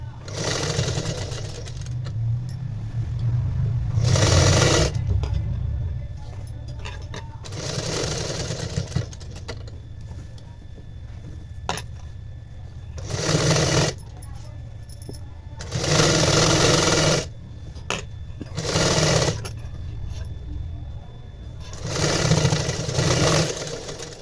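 An electric sewing machine stitches a long blouse in repeated bursts, each run whirring for a second or two before stopping, with quiet pauses and faint handling between them.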